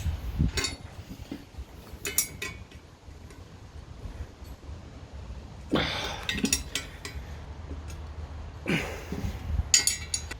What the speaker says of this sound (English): Right, let's bolt it back together.